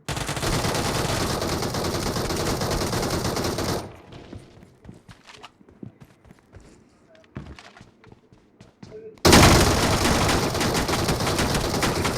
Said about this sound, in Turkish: Bekle arkadaşlar şunu bir vurayım.